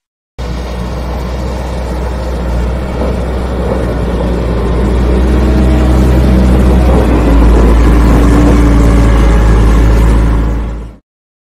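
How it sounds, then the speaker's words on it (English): A bulldozer's engine rumbles loud and close in a continuous low drone, holding steady and swelling slightly before cutting off abruptly, with no voices. "Bulldozer."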